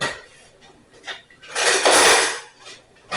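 A metal spoon clinks and scrapes against a cooking pot of cider sauce for French chicken, with a few light taps and then a louder, longer scraping rattle near the middle.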